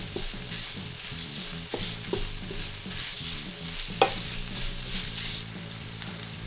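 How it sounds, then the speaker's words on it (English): Lean minced beef fries and is stirred in a pan for a Japanese taco rice bowl, sizzling steadily with several sharp scrapes and clicks as the meat is moved around. "150 grams of minced beef to the pan and fry until it's cooked through."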